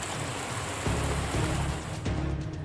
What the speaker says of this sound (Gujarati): બોટાદમાં પણ ધોધમાર વરસાદ